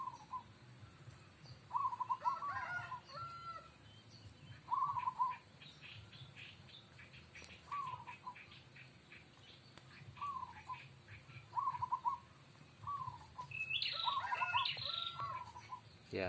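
Local zebra doves (perkutut) coo in repeated short phrases at moderate distance outdoors, with scattered chirps from other small birds between them and a brighter burst of birdsong near the end.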